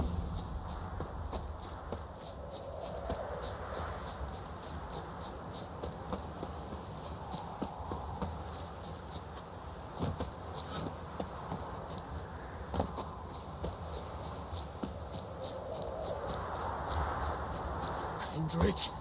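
Roach, a horse in The Witcher 3: Wild Hunt, trots with a steady clip-clop of hooves across the whole stretch, over a game music and ambience bed with speech present.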